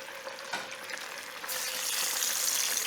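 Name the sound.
cooking oil poured into a frying pan for frying tofu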